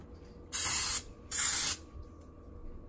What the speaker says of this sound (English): So I'm gonna use this PAM coconut oil cooking spray to just spray the bottom of the pan.